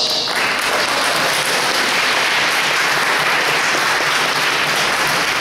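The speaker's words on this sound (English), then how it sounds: "You deserve to give yourselves a round of applause." An audience at a mayoral candidates' forum applauds, a loud, continuous wash of many hands clapping together that stays strong and even throughout, with no talking over it.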